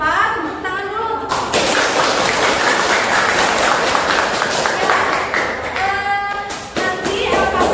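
A classroom of students bursts into loud, sustained applause, many hands clapping at close range for several seconds, with voices before and after.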